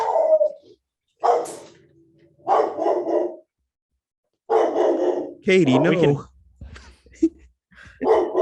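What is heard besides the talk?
dog barking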